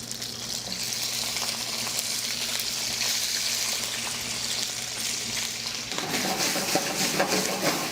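Shrimp with spicy chili, salt and ginger hiss and sizzle loudly in a hot wok as they are stir-fried, a steady, dense frying roar that continues without a break, with a faint scrape of stirring and no talking.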